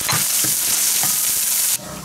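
Ginger and garlic stir-fried in a hot wok give a loud, steady sizzle with a few spatula scrapes and stirs, and the sizzle drops off sharply near the end.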